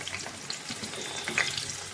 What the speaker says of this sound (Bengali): আমি বেগুনগুলো ভেজে নেব।